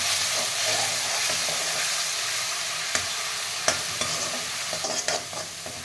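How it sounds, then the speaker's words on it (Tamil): Ground onion, ginger and garlic sauté in hot oil with a continuous close sizzle, punctuated by a few sharp spatula taps and scrapes toward the end as the paste is stirred. "இப்போ அரைச்சி வச்சு வெங்காயம் இஞ்சி பூண்டு இது நல்லா ந ஒரு அஞ்சு நிமிஷம் வரையும் நல்லா வதக்கலாம்"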